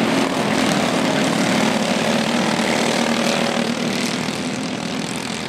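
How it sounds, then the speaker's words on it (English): Racing go-kart engines at a kart club race blare as a dense, loud, continuous buzzing drone with no pauses. "As the green light is on right now, Ty Wilkie is your early race leader"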